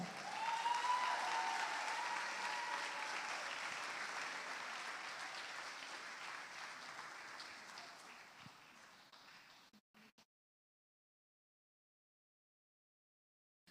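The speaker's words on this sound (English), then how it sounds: "Let's give them another round of applause as they move to the podium." An audience at a primary school graduation ceremony applauds loudly and continuously, the clapping slowly thinning out and then stopping abruptly, leaving near silence.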